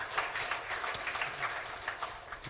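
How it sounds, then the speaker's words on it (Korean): An audience at a joint training session for party lawmakers and regional chairs applauds for General Lee Seung-ho, a continuous patter of many hands that sounds faint and distant and runs evenly for a couple of seconds. "우리 사령관 이승호 장군한테 박수 크게 한번 보내주시기 바랍니다"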